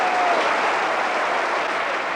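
An audience claps and cheers after a Fairy Queen act at a Christmas concert. The applause is dense and sustained, loud and close throughout.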